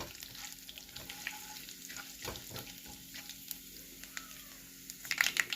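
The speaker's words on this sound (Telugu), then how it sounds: "ఆవాలు చిట్పట్లాడాయి." Mustard seeds splutter in hot oil, softly and close by, as a steady sizzle broken by scattered small pops that turn sharper and denser toward the end.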